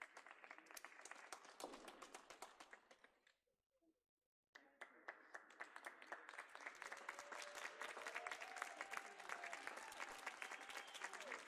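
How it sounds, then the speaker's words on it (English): Polite golf-style applause from a crowd, a steady patter of clapping that fades to near silence briefly and then resumes, growing a little fuller. "These golf claps, man."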